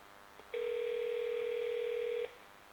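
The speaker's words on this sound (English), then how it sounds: "I'm going to hit redial, and we're going to dial." A phone redials from inside a homemade Faraday cage: a single steady electronic dialing tone sounds clearly for nearly two seconds, preceded by a faint click, with a quiet background and no talking.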